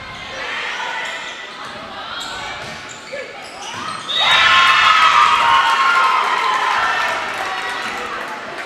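A gym crowd at a high school volleyball match between Marion and Murphysboro, with chatter and shouts that swell into loud sustained cheering and whistling, then ease back down.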